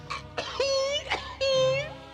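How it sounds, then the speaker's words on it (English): Rough coughing bursts from the Bravestarr cartoon break up strained, wheezy, moaning vocal tones, close and fairly loud. "And stop that coughing before I make you eat that cigar!"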